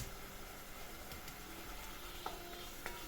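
Green lentil mixture roasts in a pan with a soft, steady sizzle and a few faint clicks and scrapes, quiet and close.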